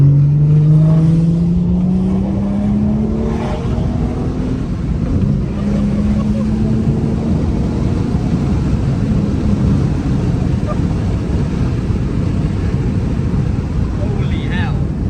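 A BMW on the motorway roars up to speed, its rising engine tone climbing in pitch over the first few seconds. Then a steady loud rush of road and wind noise takes over and holds to the end.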